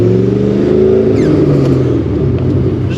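A Procharged Ford Mustang GT engine pulls briefly, its loud, close rumble rising in pitch and then easing back.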